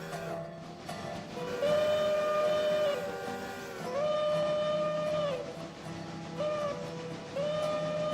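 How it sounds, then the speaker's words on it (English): Locomotive steam whistle in a freight train simulation game, sounding in three sustained blasts of a couple of seconds each over a steady background rumble, loud and near, with no talking. "I don't like that whistle."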